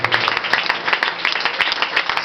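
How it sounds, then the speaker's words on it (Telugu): Loud, steady clapping from a church congregation during a service, rhythmic and crowded, with no voices heard over it. "అందరూ బిగ్గరగా చప్పట్లు కొడుతూ దేవుని నామాన్ని మహిమపరచండి"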